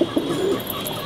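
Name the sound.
pigeons cooing in a loft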